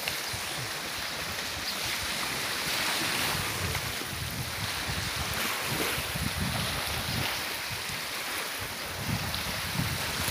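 Sea waves wash on a shore in a continuous, steady roar with broad hiss and some wind buffeting the microphone, fairly loud and close, with a small boat nearby and no talking.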